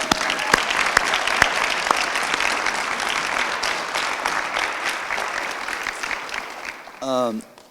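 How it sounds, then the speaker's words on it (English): Applause for a women's cross country team coach at a 2020 NJCAA national championship celebration, steady clapping from a crowd for about seven seconds before fading, with a brief voice at the end. "Let's give him a round of applause."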